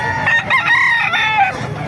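Roosters at the Bocaue poultry market in Bulacan, a close, loud crow with clucking fowl around it, a short burst of fowl calls at the live-bird market.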